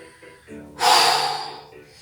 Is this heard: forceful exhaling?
yes